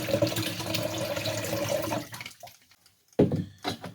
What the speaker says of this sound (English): And then I will pour that out.